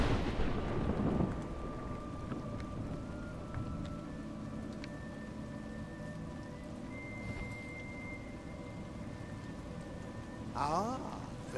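Steady rain hisses throughout in the video game A Juggler's Tale, with faint tonal hums lingering in the background and a brief louder swell near the end.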